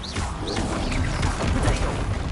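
Bombarda and Confringo spell blasts in Hogwarts Legacy: dense, loud crashing explosions and crackling impacts layered over game sound for a couple of seconds, with a brief whooshing tone near the start.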